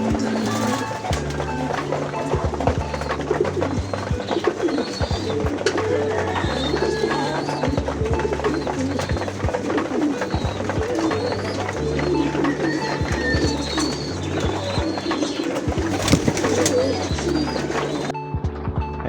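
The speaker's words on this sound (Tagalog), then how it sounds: "Ayan, gutom na gutom ang aking alagang mga kalapati." Hungry pet pigeons in an open loft in the Philippines coo steadily at feeding time, a dense, continuous murmur of low repeated calls from many birds close by, with faint shuffling and flutters mixed in throughout.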